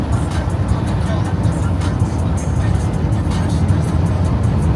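A car drives along a coastal road on a Brisbane-to-Cairns road trip, with steady loud road and engine rumble throughout.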